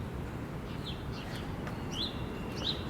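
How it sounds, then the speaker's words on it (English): Several birds chirp and tweet through a quiet morning outdoors, a few thin high calls scattered over a soft, steady background hum, with no voices. "Morning is so beautiful. The sounds of the birds"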